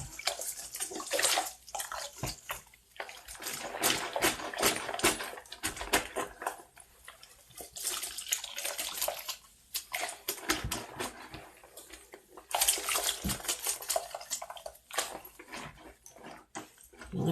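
Bathtub tap water runs and splashes steadily while a synthetic wig is rinsed, a loud, continuous gushing that swells and dips as the hair is moved through the stream.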